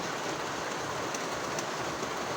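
Steady rain falls outdoors, a dense even hiss with no break and no talking.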